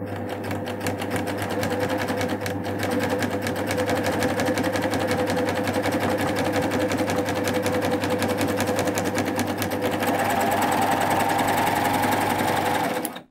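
A Baby Lock Euphoria coverstitch machine runs steadily through thick, softly coated faux leather, its fast needle chatter and motor hum continuous and close for the whole stretch, with no talking.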